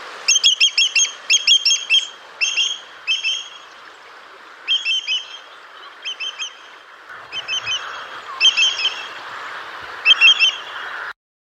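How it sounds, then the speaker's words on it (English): A greater yellowlegs calls in clipped groups of two to four ringing notes, repeated in bursts with short pauses over a steady background hiss, fairly near and loud. "The second recording was a greater yellowlegs."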